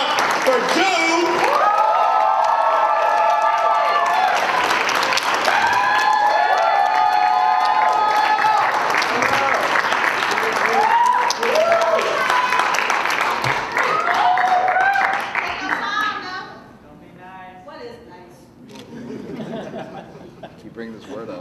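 Audience at a university poetry slam finals applauds and cheers loudly with whoops and laughter for over fifteen seconds, then the crowd noise tapers off as scattered chatter remains.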